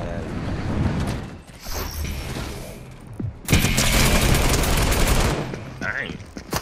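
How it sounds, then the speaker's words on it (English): Assault rifle firing in Fortnite, with bursts of loud automatic fire and a dense, sustained stretch of gunfire in the middle, set among game noise and a few voices. "This assault rifle."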